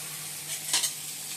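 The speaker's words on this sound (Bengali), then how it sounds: "আলু আর লঙ্কা ভেজে নিচ্ছি" Potatoes and green chillies fry in a pan with a soft, steady sizzle, and a brief louder scrape of stirring comes near the middle of the short stretch, with no talking.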